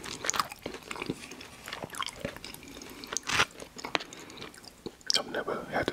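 Close, crisp crunching and chewing of a McDonald's Oreo McFlurry, with sharp bites and wet mouth sounds in irregular bursts, plus a quiet voice now and then.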